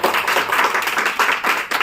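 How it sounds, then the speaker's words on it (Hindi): An audience at a direct-selling business seminar claps for a speaker, a short burst of steady, close, dense clapping with no talk. "जोरदार ताली होनी चाहिए"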